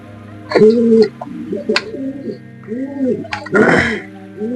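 Kaldum pigeons in a loft coo in soft, rolling, throaty bursts, several calls spread over a few seconds, close by and mixed with short sharp puffs.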